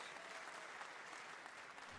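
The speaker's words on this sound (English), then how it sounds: "please, once more, a big round of applause" Audience applause fills a Red Bull Wololo: Londinium Age of Empires 4 tournament hall, a steady dense clapping wash lasting throughout with no pauses.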